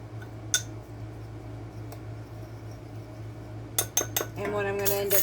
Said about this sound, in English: Now I'm going to take and mix this all together.